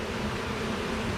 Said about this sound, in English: We got plenty of bees.